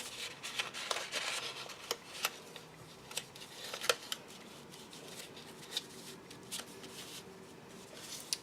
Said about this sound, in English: You just fit one flap of one envelope inside the other.